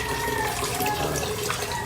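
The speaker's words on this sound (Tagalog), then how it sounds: "Kumukulo na siya." Steady bubbling, rushing water, like a pot at a rolling boil, continuous and fairly close with no talking.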